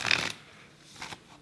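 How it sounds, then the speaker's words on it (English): Tarot cards being shuffled by hand, a quick close riffle burst at the start followed by a couple of softer brief card flicks. "So let me just give these a pretty big shuffle."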